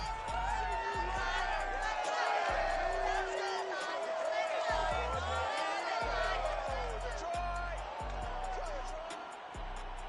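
Stadium crowd at Ford Field in Madden NFL 22 during a Bears versus Lions game, a broad continuous roar under loud arena music with pulsing beats.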